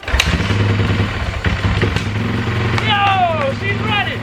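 An old Honda motorcycle that sat unused for years sputters and runs roughly after starting, with uneven low engine pulses and clattery bursts, while someone speaks excitedly over it near the end.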